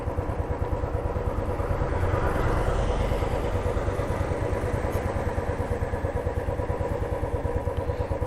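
A Royal Enfield Classic 350 motorcycle used as a bike taxi, its single-cylinder engine thumping in a steady, even rhythm at idle or low speed, loud and close throughout.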